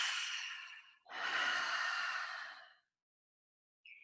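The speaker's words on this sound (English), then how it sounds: "Exhale out." Two long, deep exhalations during a guided meditation session, the first about a second long and the second fuller and longer, both close and breathy, then silence with a faint brief hiss at the end.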